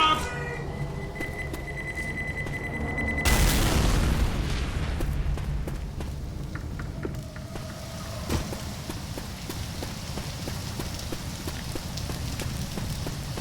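In Left 4 Dead, a pipe bomb goes off with a heavy, loud boom, followed by a long rumbling, crackling roar of fire from a Molotov. Game sounds and faint voices run through the rest.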